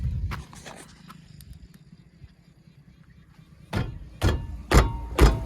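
A Wagon R brake caliper lacking grease knocks with several sharp, heavy thuds in an uneven sequence near the end, after a quieter stretch of faint low rumble and small clicks.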